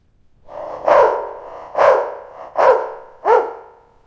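A dog barks four times in a row, each bark sliding into a whining, whimpering tail, close and loud with short quiet gaps between.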